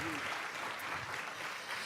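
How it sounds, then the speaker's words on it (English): An audience at a youth climate summit claps faintly and steadily for a short moment, soft applause with a brief voice at the start. "give a round of applause to you all for your thoughtful questions and to all of our panelists and leaders for your insightful answers"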